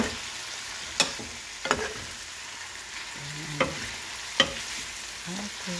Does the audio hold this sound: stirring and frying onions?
yes